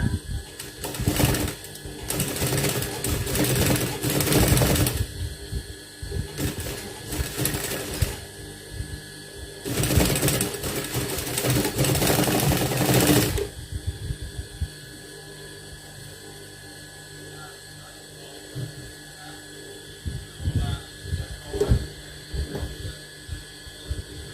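A sewing machine stitches a straight line along a shirt pocket opening, running in loud rapid mechanical bursts of a few seconds each with pauses, then fainter, sparser stitching near the end.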